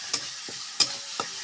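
Spice paste frying for chicken curry on a clay stove, a soft steady sizzle punctuated by three or four sharp stirring scrapes at uneven intervals, close by.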